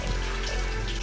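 Water poured into a bowl of eggs for infused scrambled eggs, a steady close pour lasting about a second with no talk over it.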